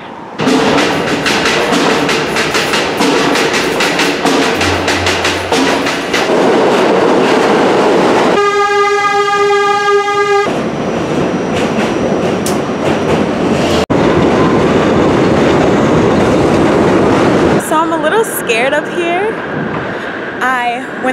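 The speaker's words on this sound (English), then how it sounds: "Went the wrong way on this train" A New York subway train runs loudly nearby, with rumbling, rattling car noise, a stretch of tonal whine or horn-like sound midway, and a brief sharp clank, while voices talk over it.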